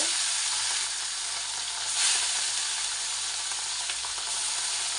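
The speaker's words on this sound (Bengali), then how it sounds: "এই যে তেল গরম হয়ে গেছে এখন মাছগুলো দিয়ে দেবো একসাথে" Pieces of rohu fish frying in hot oil in a kadai, with a loud, dense, continuous sizzle heard up close and no talking.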